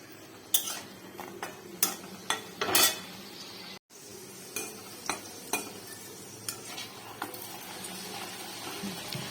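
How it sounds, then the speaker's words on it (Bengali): Luchi, puffed flatbreads, fry in a pan, with a low sizzle under sharp clinks and scrapes of a utensil against cookware, repeated at irregular intervals. "আর এই যে এখানে লুচি ভাজি"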